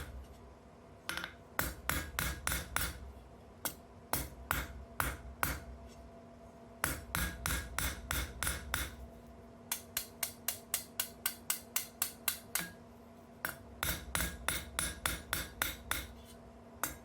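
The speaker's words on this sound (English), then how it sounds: "I'm using a small hammer because it's easier to be precise." Sharp metallic strikes of a small hammer forging a steel fire striker ring out in quick rhythmic bursts, pausing briefly between runs of blows, close and clear with faint ringing between.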